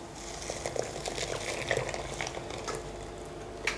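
Grated raw cassava mixed with shredded coconut as a runny, wet cake batter, stirred in a bowl with a steady soft sloshing and scraping texture, fairly quiet and continuous with a few brighter clicks.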